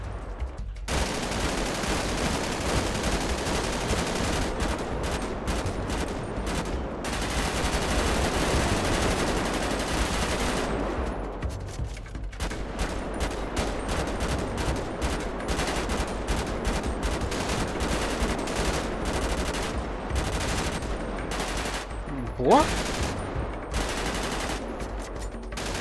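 Sustained machine gun fire from a GTA 5 roleplay army training session, long loud bursts with brief pauses and scattered single shots over about twenty-five seconds, no talking.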